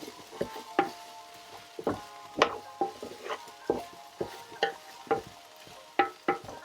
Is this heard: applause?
no